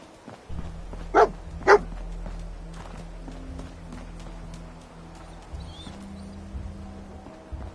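Dogmeat, the companion dog in Fallout 4, gives two sharp loud barks close together early on, over a steady low game ambience with faint footsteps.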